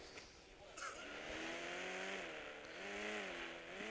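A car drives and revs in the GTA 5 video game, its engine tone climbing and wavering steadily with a brief screech early on, loud and close under quiet background noise.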